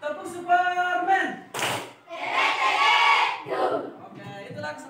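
A primary school class does a rhythmic Superman clap chant together, loud group shouting and clapping in bursts with brief pauses between the phrases.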